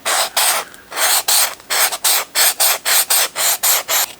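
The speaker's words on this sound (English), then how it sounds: "I could just sand it down with the brick" A sanding brick is rubbed back and forth on a 1/12 scale Hasbro Golden Idol model part, giving loud, close, evenly repeated rasping strokes, about a dozen, separated by short pauses.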